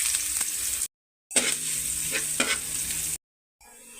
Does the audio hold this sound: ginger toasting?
yes